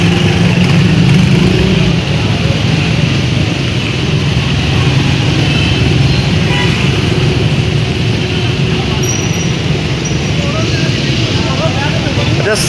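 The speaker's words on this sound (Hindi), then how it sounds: "ये आज़ादी चौक से ट्रैफिक आ रही है" Road traffic streaming from Azadi Chowk in Lahore, a dense continuous roar of engines and idling vehicles close by, loud and unbroken, with a voice speaking over it.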